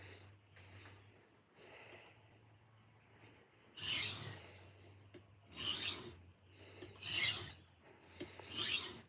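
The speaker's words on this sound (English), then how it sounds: "I actually enjoy the feel of sharpening on diamond stones with knives" A kitchen knife rasps across a diamond sharpening stone in repeated close strokes, faint at first, then louder bursts of gritty scraping in a steady back-and-forth rhythm.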